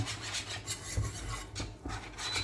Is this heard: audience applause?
no